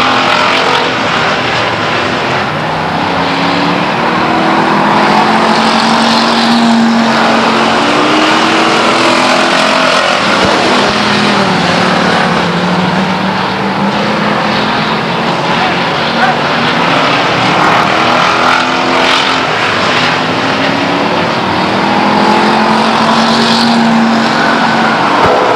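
Race cars roar continuously around the oval at Stockton 99 Speedway, engines droning loudly and steadily with rising and falling pitch as cars pass through the turns, while an announcer talks over the din.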